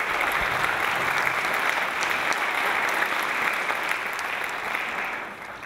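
An audience at a school show band's Disney-themed concert applauds the band director, a dense, loud, sustained wash of clapping that tapers slightly near the end.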